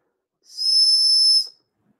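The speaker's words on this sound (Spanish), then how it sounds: "Como es una botella silbato miniatura." A single shrill, high whistle blown once on a miniature bottle whistle for about a second, clean and steady, with silence around it.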